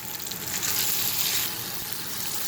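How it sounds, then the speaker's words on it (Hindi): Tomato coconut chutney ingredients sizzle steadily as they are sautéed in a pan, a dense continuous frying hiss with soft stirring, close and fairly loud throughout with no talking. "हम कोशिश करेंगे इसको अच्छे से सॉटे करने की।"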